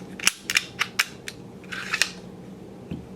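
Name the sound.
Taurus PT709 Slim pistol being taken down, magazine dropped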